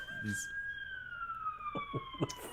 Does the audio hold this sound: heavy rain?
no